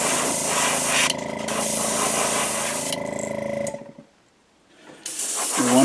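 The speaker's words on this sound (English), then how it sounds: "So we will start out just painting it flat white." Steady hiss of spray paint laying a flat white coat onto a Spro Little John fishing lure, close and continuous, with short pauses between bursts and a brief silence near the end.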